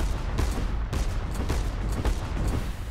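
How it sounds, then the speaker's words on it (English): Sniper fire hitting a player in the airship combat game Cloud Pirates, a rapid series of sharp, loud gunfire cracks and booms, irregular and dense over a noisy battle backdrop. "I'm getting hit by a sniper."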